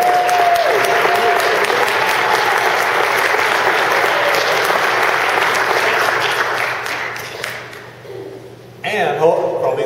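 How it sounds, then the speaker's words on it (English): An audience at a Kansas City regional business meeting claps steadily and loudly for several seconds, then the applause thins and fades out. "We can clap for you."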